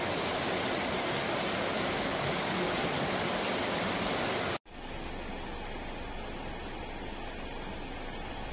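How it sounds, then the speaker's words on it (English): Torrential storm rain and rushing flash-flood water in Sicily, Italy: a dense, loud roar of pouring water from one scene, then after a brief cut a steadier, slightly fainter wash of flowing water. "The Italian island of Sicily have been hit by a severe storm accompanied by torrential rain"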